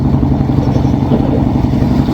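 A loud, rough engine drones steadily throughout, a rattling mid-pitched motor hum from a noisy motorboat running nearby that sounds like it needs a new motor.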